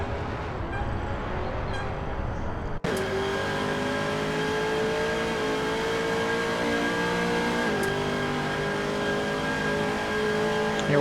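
A Bentley race car's engine heard from onboard during a Nordschleife race in Gran Turismo, a steady loud drone with rising harmonic pitch as it accelerates through the gears, briefly dipping at a shift before climbing again.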